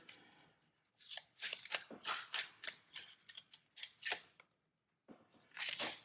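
Tarot cards are shuffled close by in quick riffling bursts, a string of crisp papery flutters separated by short pauses, with a final burst after a brief silence.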